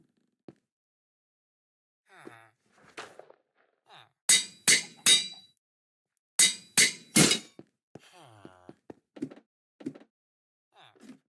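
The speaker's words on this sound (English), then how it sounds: "Of course, the anvil breaks." An anvil breaks in a video game with a cluster of sharp metallic clanks and crunches, in two short bursts. Quiet talk is heard before and after.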